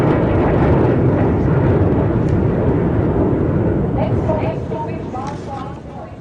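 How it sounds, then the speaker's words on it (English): Three MiG-21 Bison jets fly overhead in big formation, a loud broad roar that holds and then slowly fades as they pass. "There you can see 3 Bison flying in big formation."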